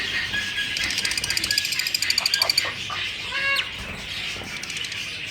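Young parrots squawk and chatter inside a netted cage, giving rapid repeated calls with wing flaps. The calls come in a busy burst early on, then one sharper cry stands out, and a voice speaks faintly underneath.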